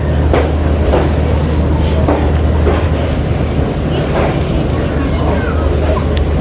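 Steady, loud rumble of the 14 Down Awam Express running from Attock City Junction toward Rawalpindi, heard from inside an AC Standard coach, with intermittent clacks over the rails throughout.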